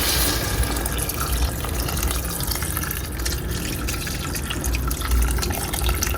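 Water pours steadily into a pot, a continuous splashing rush close by, with no voices over it.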